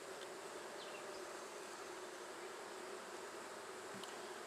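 Honey bees from a swarm buzz steadily around a hive fitted with Acorn plastic foundation, a dense, continuous drone at close range with no talking.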